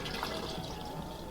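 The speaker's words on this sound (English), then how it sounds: "just really checking that the flush works" A caravan toilet flushes with a steady, close rush of running water that holds evenly for the whole brief moment.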